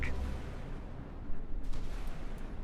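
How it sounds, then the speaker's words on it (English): A missile launching from a battery in the naval combat game Sea Power, a rumbling blast followed by a sustained roar with a few sharper bursts, moderately loud. "Got one more missile. Send it."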